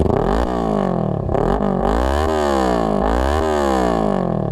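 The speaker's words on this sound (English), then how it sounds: "guys hear the exhaust, but I feel like the video does the exhaust no justice whatsoever because it's way louder and it pops" A Kawasaki Ninja 300 motorcycle with an aftermarket exhaust runs loud and close, its engine note rising and falling in several quick revs over a steady low rumble.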